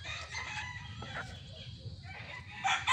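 Gamefowl chickens, a P-comb rooster with straight-comb and P-comb hens, heard crowing and clucking over a low farmyard rumble, moderately close, with faint talk in the background.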